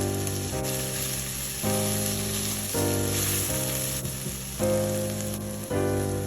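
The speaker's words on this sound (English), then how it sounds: "Now we're going to add in the tomato paste." Tomato paste sizzles and fries steadily in a pan while vegan three-bean chili is cooked. A bright, continuous hiss plays under a backing track of shifting tonal chords.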